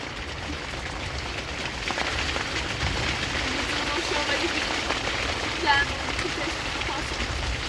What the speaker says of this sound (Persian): چند دقیقه وایسا دقیقه بارون بند بیاد